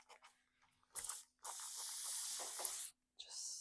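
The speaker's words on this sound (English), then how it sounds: "Gonna mist it with some water," Water is sprayed from a spray bottle onto paper for a decoupage project, with a few quick hissing bursts: a short spritz followed by a longer spray lasting about a second and a half, then another, heard up close.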